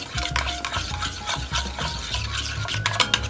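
A thick béchamel sauce seasoned with nutmeg and pepper is stirred in a pot, giving a steady run of close, soft scraping and rubbing strokes with no talk.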